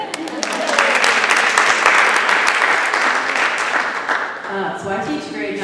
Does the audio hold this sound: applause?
yes